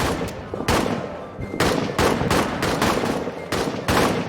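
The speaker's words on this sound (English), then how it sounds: "I think I'm shooting these guys" Trench warfare gunfire in the game All Quiet in the Trenches, with loud close bursts and single shots cracking in an irregular rhythm, some in quick clusters.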